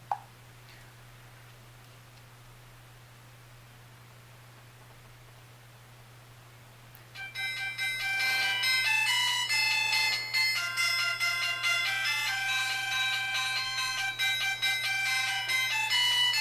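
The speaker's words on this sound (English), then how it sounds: "just call this phone so you can hear just how loud the ring is" After several seconds of quiet hiss, a credit-card-sized AEKU Mini-C6 phone starts ringing with a bright, repeating electronic melody, loud and close, continuing to the end.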